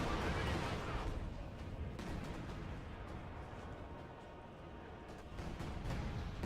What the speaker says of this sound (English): All these sectors are going to get targeted by artillery.